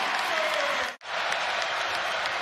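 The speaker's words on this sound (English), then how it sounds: "Rutgers crowd at its full-throated best." Rutgers home crowd at a Big Ten men's basketball game against Clemson roars with sustained cheering and applause, loud and dense throughout, with a brief sharp dip before the noise swells back to full volume.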